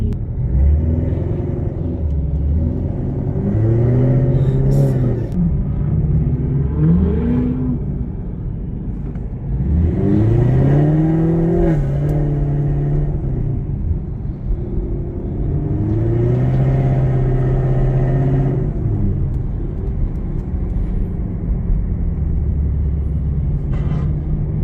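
A Chevrolet C7 Corvette pulling away at a cars and coffee outing, its engine rumbling steadily and loudly up close, with rising and falling revs as it moves off and keeps rolling.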